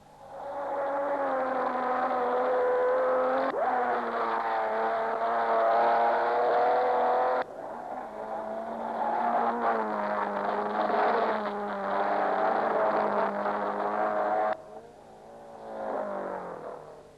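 1958 Aston Martin DBR racing cars pass at Le Mans, with engine tones that rise and fall across several passes and a few abrupt shifts, heard moderately far off with no talking.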